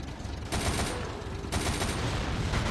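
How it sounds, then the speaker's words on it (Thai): Sustained automatic gunfire in the mobile shooter Unkilled while shooting zombies from atop a tank, loud, dense bursts that swell in intensity partway through, with no talking. "ด่านนี้ให้ยิง ทะลุซอมบี้2ตัวนะครับ ให้ครบ 15 ครั้งแล้วก็ยิงถังระเบิด"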